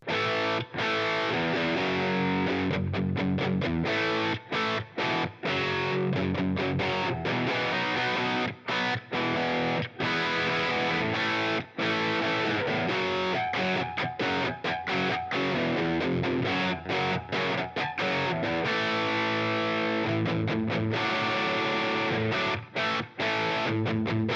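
Heavily distorted electric guitar through a Line 6 HX Stomp's Diezel-modeled amp plays dense, chugging riffs with brief choppy stops, a thick saturated amp tone throughout.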